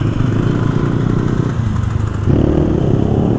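A loud motorcycle engine rumbles close behind a rider at a racing circuit, a steady rough drone that swells louder near the end as it revs.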